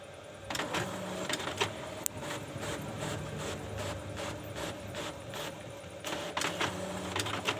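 An office printer printing an Excel sheet, a steady mechanical whir with rhythmic clicking and feed rattles, close and continuous for several seconds with no talk.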